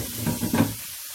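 Celery and carrots cut in half-moons sizzle in a pan with chicken paupiettes, a soft broadband crackle swelling in a few stirred bursts before fading to a quiet hiss.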